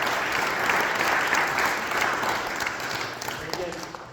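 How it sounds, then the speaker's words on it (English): A banquet crowd at a basketball tip-off dinner breaks into sustained applause, a dense, steady wash of clapping from many hands that holds strong for several seconds before easing slightly. "How about a big round of applause?"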